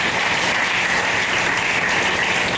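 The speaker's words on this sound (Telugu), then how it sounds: "గట్టిగా క్లాప్స్ కొట్టండి ఆయనకి" An audience at a ceremony for a governor's ribbon-cutting claps loudly and continuously, a thick, even roar of many hands with no pauses.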